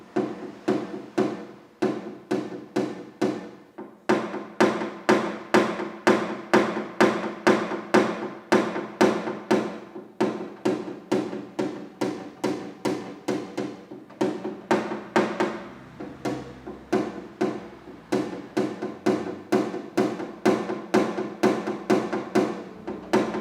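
Wooden tool tapping a car body panel during paintless dent repair, a long series of rapid, evenly spaced sharp knocks in quick bursts with short pauses, close and clear with no talking.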